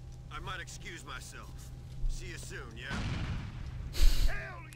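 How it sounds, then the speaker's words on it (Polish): Explosions booming in the background of GTA IV: The Lost and Damned gameplay during a biker gang fight with a train, two dull blasts under steady game noise and chatter. "Jeszcze wybuchy w tle."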